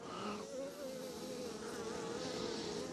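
Steady buzzing of many Buckfast bees, a continuous dense drone with shifting pitch, close and fairly loud throughout with no talking.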